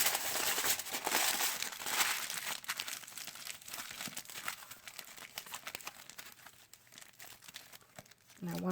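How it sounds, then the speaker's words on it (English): Aluminum foil crinkles and crumples continuously as it is wrapped around a handmade craft shape for a scepter, close and steady with no talk. "I'm going to go ahead and wrap it in aluminum foil"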